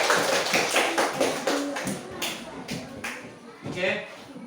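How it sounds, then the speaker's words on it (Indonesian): Applause for a student group in a classroom: a burst of rapid, uneven hand claps from many pupils, fairly close and loud, fading out over a few seconds with voices mixed in. "Tepuk tangan untuk kelompok 5"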